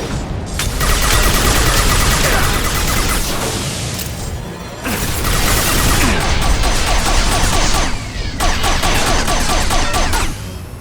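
Sustained heavy gunfire from a Mass Effect 2 firefight, loud and dense, with rapid volleys and crashing impacts running almost the whole time and two brief lulls between bursts.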